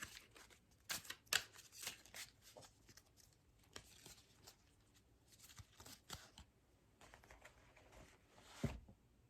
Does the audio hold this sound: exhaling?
no